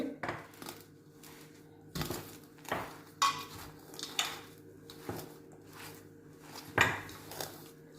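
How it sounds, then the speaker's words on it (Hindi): Poppy seed laddu ingredients and sugar are mixed in a bowl, with a spoon scraping and clinking against the bowl in irregular knocks and soft stirring rustles, close by and fairly quiet. "इन सारी चीज़ों को मिक्स कर लेंगे।"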